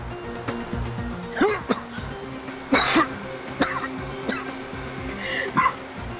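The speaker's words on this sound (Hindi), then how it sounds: "उन्हें ऐसे ही खांसी आती है" Someone coughs repeatedly in short, harsh bursts, close up, with a few throat-clearing sounds between them, in a scene from the Hindi TV crime drama CID.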